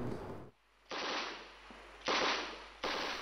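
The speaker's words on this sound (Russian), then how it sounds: "Здесь вновь гремят выстрелы." Bursts of automatic gunfire crackle at the disputed Thailand-Cambodia border, three loud sustained volleys separated by short gaps, with no voices.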